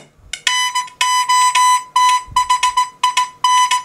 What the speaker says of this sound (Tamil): இப்போ நத்திங்கோட அலாரம் வந்து கேட்டிருப்பீங்க